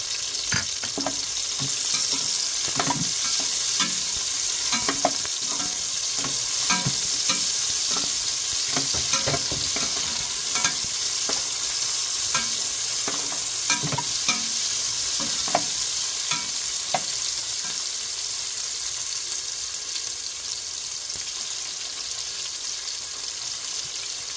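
Garlic, onion and chili sauté in a pan for Filipino callos, with a steady bright sizzle and a spatula stirring in repeated scraping strokes, close and continuous with no talking.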